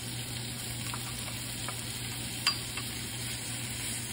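Ham, diced onion and jalapeno frying together in a pan for an omelette, a constant close sizzle with light stirring and one sharp clink near the middle, no voices.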